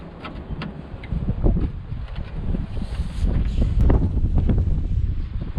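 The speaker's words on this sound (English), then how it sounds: "That wind is cold." Cold wind blows outdoors during vehicle repair work under an open car hood, buffeting the microphone as a loud, continuous low rumble that swells and gusts throughout.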